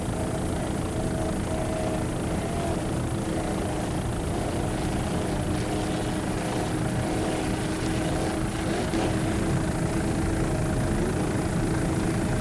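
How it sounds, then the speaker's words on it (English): Two racing 29-foot Fountain offshore powerboats with Mercury engines roar continuously and loudly, a dense, unbroken mechanical drone with a rushing hiss throughout. "both 29-footers. Both Mercury-powered, very evenly matched boats."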